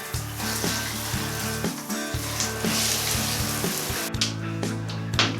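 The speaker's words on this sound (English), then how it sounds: "Now for a good rinse off before the next stage." Water runs and splashes steadily during a bathroom rinse-off, a continuous hissing spray with a brief break near the end.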